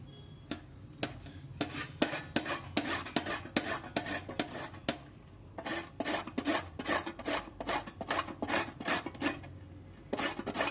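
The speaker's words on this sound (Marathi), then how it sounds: "ही जी किसणी असते आपण खोबरं वगैरे किसतो तिच्यानेच आपण हे आवळे किसून घेणार आहोत" Amla, Indian gooseberries, rubbed against a metal coconut grater over a plate, giving steady rhythmic raspy scraping strokes, quick and repeated with brief pauses, close and fairly quiet.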